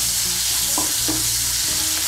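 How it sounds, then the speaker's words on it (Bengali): Nigella seeds and slit green chillies are stirred through hot oil. A dense, close sizzle is interrupted by a few scraping strokes of a spoon in the pan. "কালো জিরে আর কাঁচা লঙ্কাটাকে মিশিয়ে নেব তেলের সঙ্গে"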